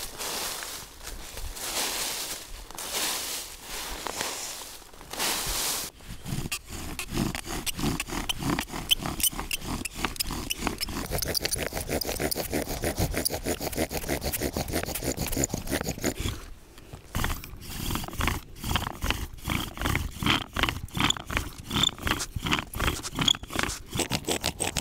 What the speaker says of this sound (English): I'm going to take the lanyard hole as my Bowdrill socket.